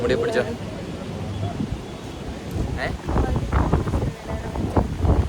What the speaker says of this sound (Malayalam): ഓക്കെ, കാറ്റ് തുടങ്ങി